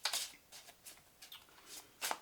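Tarot cards are shuffled in several quick, soft riffling bursts that come close together, faint and close by, with no talk over them.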